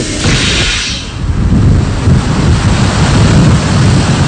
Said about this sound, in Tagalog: nakakaranas pa rin tayo ng napakalakas na hangin